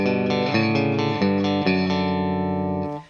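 Distorted electric guitar plays a short riff of sustained, ringing chords and notes, loud and close, ending abruptly.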